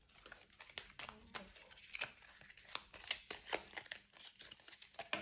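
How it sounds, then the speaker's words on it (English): A deck of cards for the Escape the Dark Castle board game being shuffled: quiet, close papery riffles and snapping flicks in quick irregular bursts. "I'm going to shuffle this deck though first"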